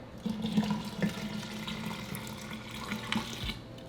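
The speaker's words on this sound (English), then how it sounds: "Now we're going to add 8 cups of cold water." Cold water splashes and trickles into a container of chocolate horchata mix in uneven bursts, with small clinks, close and fairly quiet.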